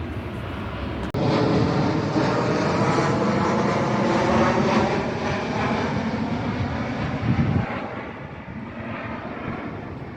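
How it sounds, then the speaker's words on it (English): Propeller or jet airplane passing overhead in Fuerteventura, a loud, broad engine roar that swells and holds for several seconds before slowly fading into the distance. "And we've got so many planes here coming over as well."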